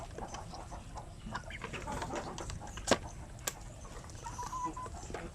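Native chickens cluck in scattered, faint calls around a farmyard, with a couple of sharp clicks and quiet background bustle.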